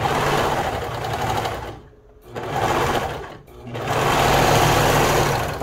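A serger stitches a lettuce hem along the edge of knit fabric, three loud close bursts of rapid mechanical whirring separated by two brief pauses.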